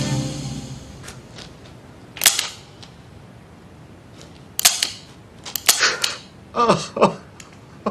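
An empty gun clicks sharply several times in a tense indoor drama scene, with no bullets left. The clicks are close and loud, and a few short voice sounds come in between them.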